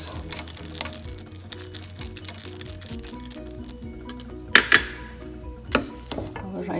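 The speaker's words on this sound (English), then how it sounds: "Now we are going to stir in the pine nuts." Pine nuts stirred into cooked spiced basmati rice with a spoon against a pot, giving soft patters and squishes with a few sharper clinks of metal, close and moderately loud over steady kitchen background.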